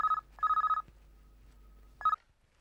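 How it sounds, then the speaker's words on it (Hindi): A telephone rings with a high electronic trill, sounding in three short bursts: a quick one, a longer one, then another after a gap, clear and alone in a quiet room. "फोन उठाओ।"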